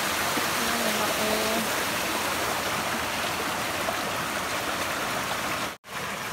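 A creek near the beach rushes steadily over stones, a continuous close broadband water noise with faint speech early on and a brief cut near the end.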